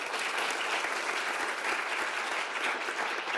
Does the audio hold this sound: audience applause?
yes